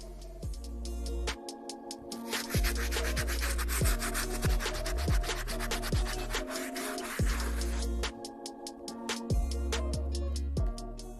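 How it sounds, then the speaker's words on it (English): Stiff bristle brush scrubbing the grimy midsoles of Air Jordan 1 sneakers, close rhythmic rubbing strokes that repeat steadily in quick back-and-forth passes, with no talk. "I'm gonna show you guys using the stiff bristle brush how well this brush works."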